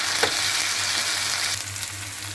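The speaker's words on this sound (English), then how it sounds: "So we'll quickly add the tomatoes in it, around 1 cup," Tomatoes frying with onions in a pan for matar paneer, a continuous close sizzle with a low steady hum beneath and a brief scrape of stirring near the start.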